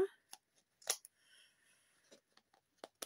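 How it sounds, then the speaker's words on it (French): Scissors snip through excess paper in a few sharp, separate cuts, close and fairly quiet, with soft handling rustles between them and no talking. "Donc là, ça dépasse un peu. Je coupe."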